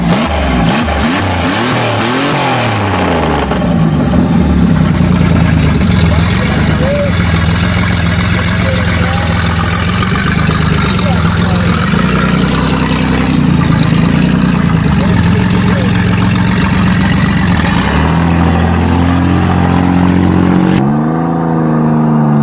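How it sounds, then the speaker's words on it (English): A car engine rumbles steadily at close range, with revving swells at the start and again near the end. "Check out my new chrome engine."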